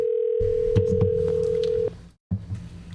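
A telephone call tone before the call is forwarded to voicemail: a steady, clear tone sounds for nearly two seconds over low electronic hum, then cuts off into a short silence before the hum briefly returns.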